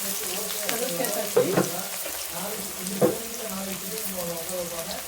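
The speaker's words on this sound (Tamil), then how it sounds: "கடுகு சீரகம் பொரிஞ்சிட்டு இருக்குது" Mustard seeds and cumin crackling in hot oil in a pan as a potato gravy begins, a continuous soft sizzle broken by a few sharper pops, fairly close and steady.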